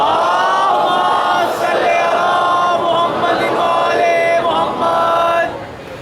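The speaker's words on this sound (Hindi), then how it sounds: "मोमिनीन व मोमिनात के लिए एक मरतबा बुलंद आवाज़ से सलावत पढ़ते हैं।" A large crowd of mourners at an 11 Muharram majlis reciting salawat aloud together, a loud, dense, continuous wall of massed voices in unison that drops off slightly at the very end.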